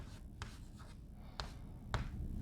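An equation is handwritten, with faint scratchy pen or chalk strokes landing as a few short, sparse taps and scrapes against a quiet room background.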